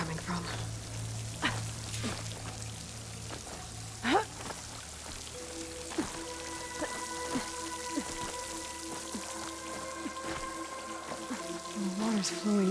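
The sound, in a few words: water flowing into a rock wall near a waterfall, from the video game Horizon Forbidden West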